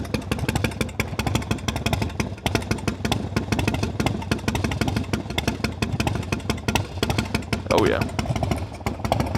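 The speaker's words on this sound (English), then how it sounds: "I'll let you hear what a twin cam Harley-Davidson sounds like" A 2003 Harley-Davidson Softail Standard with a twin cam engine runs close by, a steady, loud rumbling throb that continues the whole time, with a brief voice heard over it.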